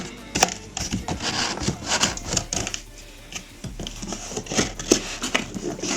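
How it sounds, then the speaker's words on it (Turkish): Cardboard packaging of a Sony HT-SD40 soundbar box being opened at the sides, with repeated close crackling tears, scrapes and sharp knocks in an irregular rhythm, loud and near, with no talk. "Şimdi yanları açalım."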